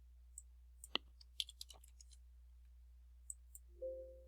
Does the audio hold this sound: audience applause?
no